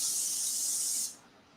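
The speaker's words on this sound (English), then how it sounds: "I spray the chicken on both sides as well" Cooking oil sprayed onto chicken pieces destined for an air fryer: one steady, close, loud aerosol hiss lasting about a second, then cutting off to quiet room tone.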